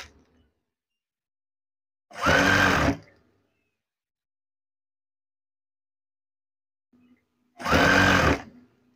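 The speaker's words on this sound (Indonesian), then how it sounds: "Sewing." A sewing machine stitches in two brief, loud bursts of about a second each, separated by long silences.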